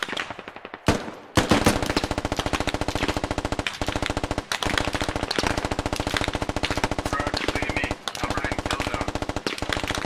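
Sustained machine gun fire in the video game Squad: rapid, dense automatic bursts repeat almost nonstop at close range, loud and steady, broken only by a few brief pauses between strings of shots.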